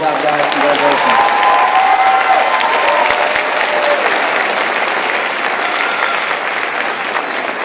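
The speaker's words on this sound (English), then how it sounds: "Let's give them a round of applause." An audience applauds students honored at an academic all-stars recognition event, a loud, steady wash of clapping with a few cheers and faint voices mixed in, holding strong throughout before easing slightly at the end.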